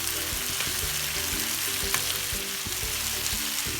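Chicken sizzles steadily in a hot pan while being softened for a restaurant-style malai tikka with gravy, a dense continuous fry with occasional stirring knocks and low clatter, close and loud throughout with no voices.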